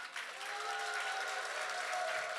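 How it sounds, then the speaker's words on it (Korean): A church congregation applauding to welcome an elder: continuous, full clapping from many hands, steady and fairly close, with a faint tonal ring beneath it. "우리 장로님 나오실 때 큰 박수로 우리 환영하는 박수 하도록 하겠습니다."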